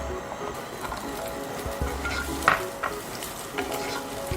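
Chopped onions with minced garlic and ginger frying in hot white oil for a chicken and mixed vegetable dish, giving a steady low sizzle with occasional scrape and clatter of stirring.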